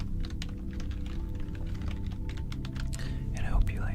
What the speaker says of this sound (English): and I hope you like the keyboard sounds